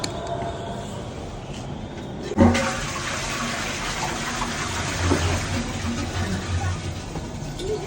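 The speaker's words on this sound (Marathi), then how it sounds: "मी फ्लॅश करते" A household toilet flushes close by in a bathroom: a sudden loud rush of water, then a sustained gurgling drain with faint voices underneath.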